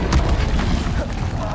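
The Incendio fire spell from the Hogwarts Legacy video game erupts as a short, loud, booming burst with a low thump and a brief fiery whoosh, alone without talk.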